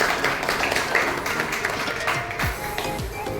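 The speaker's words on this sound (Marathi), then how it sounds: "अनुषसाठी जोरदार टाळ्या" Applause for performer Anush as he steps up at a children's one-person drama workshop show: a dense, steady patter of many hands clapping that fills the room for the whole stretch.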